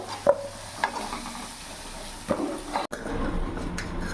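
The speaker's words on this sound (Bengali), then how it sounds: "আলুগুলোকে ভালো করে লাল লাল করে ভেজে নেব।" Potatoes fry in oil in a pan, giving a steady, close sizzling hiss, with a few stirring scrapes and a brief dropout near the end.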